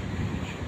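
Steady wind buffets the microphone outdoors on a hot, sunny day in Dubai, a continuous low rumbling roar with no breaks and no other clear sounds.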